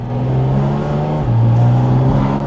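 A loud Porsche GT4 RS engine revs up and holds, a strong throaty drone with a brief dip midway.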